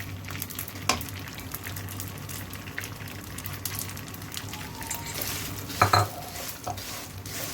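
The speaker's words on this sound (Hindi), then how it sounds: "बस इसको मैं भून लूँगी तब तक जब तक इनका थोड़ा जो कलर है लाइट गोल्डन ब्राउन सा ना हो जाए।" Vermicelli being roasted in ghee in a pan, a soft continuous sizzle with a spoon scraping and stirring against the metal. A couple of sharper clinks come near the end, and no one talks.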